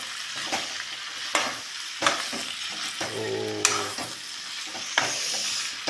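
Pork frying in plenty of its own rendered oil with chillies and spices, a steady sizzle broken by sharp stirring scrapes every second or so, close and fairly loud, with no talking.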